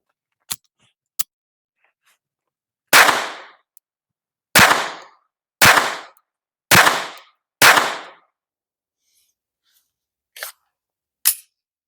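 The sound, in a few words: five pistol shots from a Glock 43X or 48 clone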